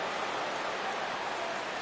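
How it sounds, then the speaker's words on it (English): Steady rain falls over a baseball game in MLB 17 The Show, a continuous even hiss with no breaks, fairly soft and unaccompanied by talking. "Rain continues to fall here in the 6th."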